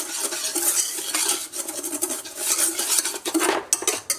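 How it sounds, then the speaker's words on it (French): A spoon stirs sugar and water in a pan for caramel, scraping and clinking against the metal in quick, busy, continuous strokes, loud and close with no voices. "Je commence par mélanger donc le sucre et l'eau"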